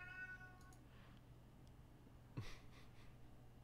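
A cat meows loudly and repeatedly in the opening second, with stacked harmonic wails, then a brief sharp vocal sound follows over a steady low electrical hum.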